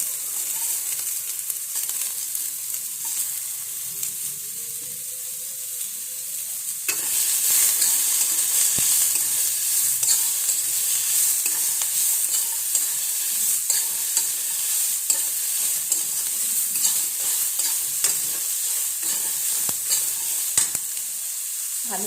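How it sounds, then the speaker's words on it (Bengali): Onion fries in a very small amount of oil for moong ghugni, a continuous close sizzle that grows louder partway through, with intermittent scraping and stirring knocks and no voices. "ভালো করে ভেজে নেব পেঁয়াজটা।"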